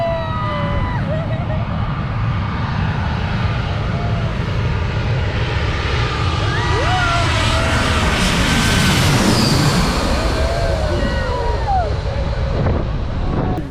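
An airliner on low final approach passes over Maho Beach, St. Maarten, with a loud continuous jet engine roar that swells and pitches down as it flies overhead. Wind buffets the microphone and people talk faintly beneath the roar.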